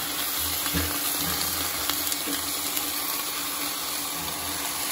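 Balbacua beef skin sizzling in hot cooking oil while being stirred, a constant crackling fry close by with occasional bubbling pops, no voices.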